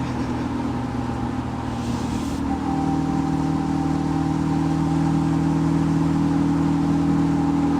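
A car engine at a car meet drones at a steady mid pitch and then rises slightly as the revs climb, a close, continuous hum with no talk.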